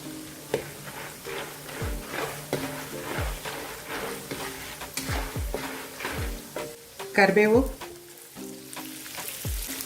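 Cashews and peanuts roasting with turmeric in a pan for ready-to-eat masala poha: steady soft sizzle with repeated stirring scrapes and clinks, plus a brief louder clatter near the end.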